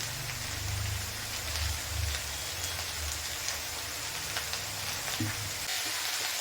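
Onions sautéing in a pan for a wheat samosa filling give a steady hiss that resembles rain, loud and continuous throughout, with a few soft stirring bumps and no talking.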